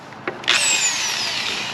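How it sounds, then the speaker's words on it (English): A power drill bores into a rear fender filler strip, a short bump followed by a loud, steady whine as the bit cuts in, up close. "You will need a drill and a drill bit"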